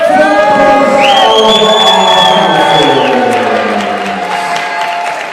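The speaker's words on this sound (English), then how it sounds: "please have a big round of applause" Crowd noise at a combat sports event, a loud bed of cheering and clapping under a sustained tonal sound that rises and holds, easing slightly toward the end.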